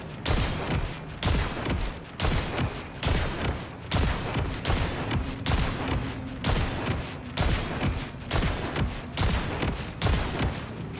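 Shotgun blasts from the video game Borderlands 4 go off in a rapid, regular string of loud booming shots, about a dozen in quick succession, with no talk over them.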